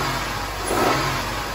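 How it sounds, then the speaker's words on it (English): A car engine holds a steady, loud drone that swells slightly as the throttle is gradually opened, with no voices over it. "as I slowly increase the throttle,"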